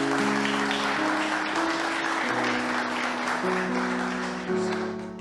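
Applause at a Catholic prayer gathering, steady crowd clapping throughout over sustained organ or keyboard chords, tapering off near the end.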